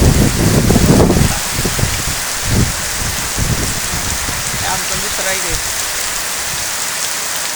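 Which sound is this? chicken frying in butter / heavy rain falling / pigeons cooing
heavy rain falling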